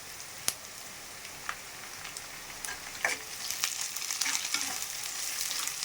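Garlic and chili frying in a pan for an egg curry: a steady, moderately loud sizzle with a few sharp crackles and occasional stirring scrapes, no voices.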